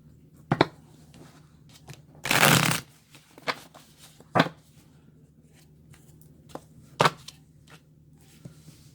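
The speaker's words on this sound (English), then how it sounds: "and then we'll shuffle again" Tarot cards shuffled by hand during a reading, with a long riffling burst near the middle and several short sharp card snaps and taps spaced around it, close and alone.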